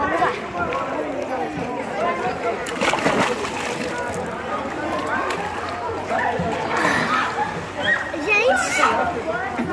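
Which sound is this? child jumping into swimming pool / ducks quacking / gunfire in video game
child jumping into swimming pool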